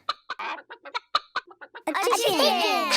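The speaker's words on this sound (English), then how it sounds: "A chicken. A chicken!" Cartoon-style chicken clucks come in a quick run of short, sharp bursts, then give way to a longer, dense squawking cackle, loud and close with no other sound.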